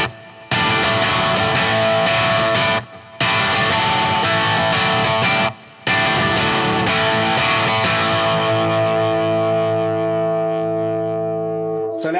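Electric guitar on the bridge pickup through a Metropoulos Metro Plex 100 amp plays loud, driven rock rhythm chords with short gaps, ending in a long ringing chord that slowly fades.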